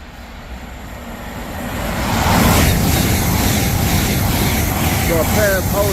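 A pair of trains including a Class 802 unit rushing through Biggleswade station on the East Coast Main Line, a broad roar swelling after two seconds and staying loud, with a brief high squeal near the end.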